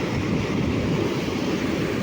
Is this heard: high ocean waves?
yes